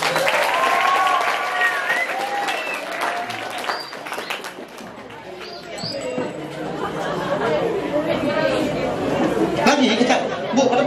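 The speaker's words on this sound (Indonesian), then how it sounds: "Tepuk tangan." An audience of students and teachers at a school Isra Mi'raj commemoration in Tabalong claps, mixed with loud chatter and excited voices, the applause swelling again toward the end.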